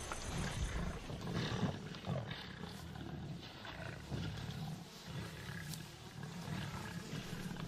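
Wild lions in the bush give a low, rumbling purr-like growl that pulses on and off, faint and fairly distant, over an outdoor background with no voices.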